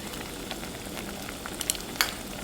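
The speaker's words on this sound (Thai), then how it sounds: "ต้มให้เดือดเลยนะคะ พอเดือดแบบนี้ก็ปรุงรสด้วยพริกนะคะ" Soup liquid for tom kha sauce bubbles at a rolling boil in a pot, a continuous close seething hiss with small scattered pops and splutters.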